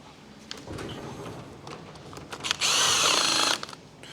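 A power tool tightens bolts while a Beta 200cc two-stroke engine is assembled, with a loud steady whir of about a second near the end, after quieter clicks and handling noise.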